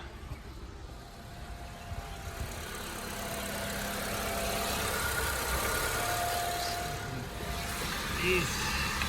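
A 2015 Honda Civic idling during routine maintenance, a steady low engine drone with faint whining tones, heard close and continuous under soft background noise.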